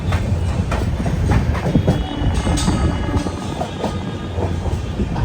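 A passenger express train rolls into Surat railway station, loud rhythmic clickety-clack of wheels over rail joints with carriage rumble and rattling, continuous and close, no voices.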